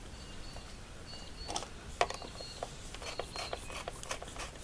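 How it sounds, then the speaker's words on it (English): Screws are loosened on a two-stage cyclone dust separator bin, heard as faint, close clicking and ratcheting ticks from a hand tool, with one sharper click standing out amid soft scattered mechanical taps. "First I'll loosen the screws and remove the hose."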